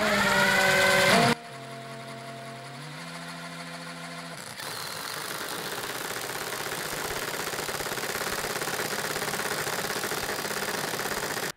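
A fake Makita power driver runs loudly and steadily, first whining at high pitch, then stepping down and settling into a harsh, continuous buzzing drone, close and alone without talk.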